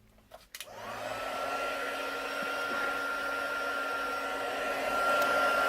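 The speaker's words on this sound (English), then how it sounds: "So I'm going to take my trusty heat tool." A handheld heat tool for heat embossing stamped cardstock with embossing powder switches on after a few faint clicks and blows a steady, loud whooshing stream of air that runs unbroken to the end, with no talking.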